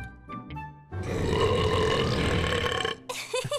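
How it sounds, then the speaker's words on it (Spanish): A giant baby in a cartoon lets out one long, loud, rumbling burp lasting a couple of seconds, preceded by brief squeaky sounds and followed by a short vocal outburst. "¡Ha sido el eructo más grande que he oído en mi vida!"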